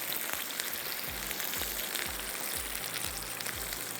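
Onions frying in hot oil for a dal tadka, a constant close sizzle and crackle with a faint recurring low thump from stirring in the pan, no speech.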